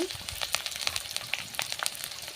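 Curry leaves and green chillies fry in hot oil with a busy, crackling sizzle and many sharp pops and spits scattered over a steady hiss, close and fairly loud.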